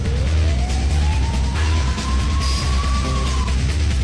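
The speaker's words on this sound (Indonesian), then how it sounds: "Bagus, ambulans sudah datang." Ambulance siren wailing as it arrives, a single rising tone sweeping up and holding over a loud, dense bed of engine and street rumble, close and continuous.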